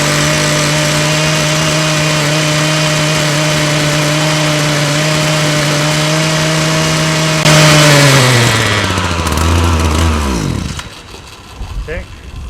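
A small gasoline engine on summer yard equipment drones loudly and steadily, then sputters as it runs out of gas, its pitch sliding down before it dies into quiet handling noises.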